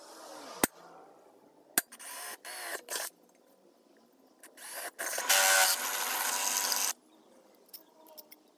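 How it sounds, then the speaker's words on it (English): A power drill drilling a hole in a homemade bar clamp whirs in short bursts, then runs in one longer steady grinding stretch, with clicks and handling noises between. "I'm going to start off drilling a hole somewhere near towards the top"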